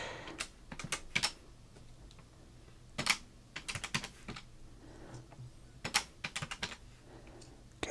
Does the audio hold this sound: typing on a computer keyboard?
yes